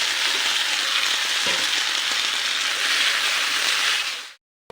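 Potatoes hit a pan of frying jackfruit curry with a loud, steady sizzle that runs unbroken for about four seconds before cutting off abruptly.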